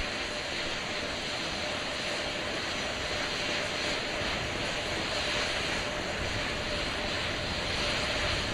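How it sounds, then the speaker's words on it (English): Four RS-25 rocket engines, three of them Shuttle-heritage units, gimbal during a thrust vector control actuator test, giving a steady, loud broadband roar that holds evenly throughout with no talk. "we're going to get that thrust vector control actuator test. This is a gimbaling of the engines."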